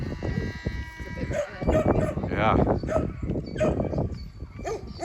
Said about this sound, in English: dogs went nuts, set off the donkeys.